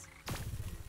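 Frogs croak in a swamp in the video game Wytchwood, a quick run of low, rhythmic croaks that follow a short rising sweep and sound close and fairly loud.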